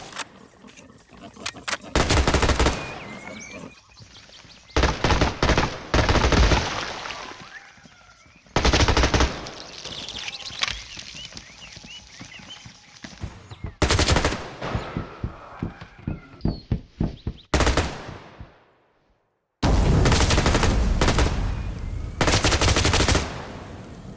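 Gunfire in a survival video game: repeated bursts of loud automatic fire and single shots, broken by quieter stretches with rattles and creature growls, plus one abrupt falling sweep into brief silence before the shooting resumes.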